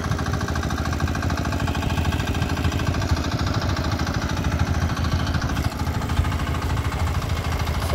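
A river ferry's motor runs steadily near the Luba crossing in Abra, a dense, even mechanical drone like a generator with a fast rhythmic chug, continuous throughout with no talking.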